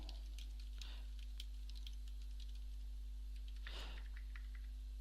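Faint, irregular clicking of fingers typing on a computer keyboard, quick taps in uneven clusters over a low steady hum, close but very quiet.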